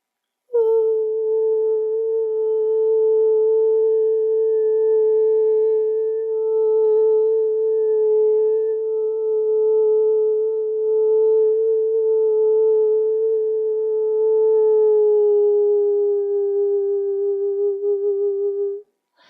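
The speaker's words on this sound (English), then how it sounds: "So I'm going to do some sound healing," A sustained vocal toning tone for sound healing, one long steady hummed pitch held for nearly twenty seconds, clear and close with no talking.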